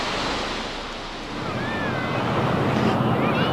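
Ocean surf washes steadily against the shore under gusty wind buffeting the microphone, a continuous loud rushing roar that swells slightly toward the end.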